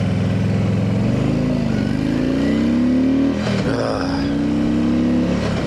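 A Harley-Davidson Ultra Classic motorcycle rides on the road with a loud, steady engine drone that rises in pitch as it accelerates, dips briefly as it shifts gear, then climbs again.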